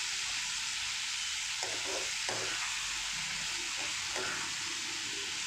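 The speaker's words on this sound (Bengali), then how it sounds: "এবারে চিংড়ি মাছগুলো সুন্দর করে মশলার সঙ্গে ফ্রাই করে নেব।" Prawns marinated with raw ginger-garlic paste frying in spiced oil, a steady loud sizzle throughout with occasional stirring scrapes and clinks.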